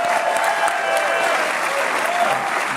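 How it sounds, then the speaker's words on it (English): A crowd applauding steadily at a political event at Mar-a-Lago, dense clapping at an even level throughout, fairly close and loud. "We can get a round of applause"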